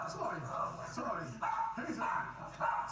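A guard dog barks and yips close by in short repeated bursts, mixed with a voice talking over it.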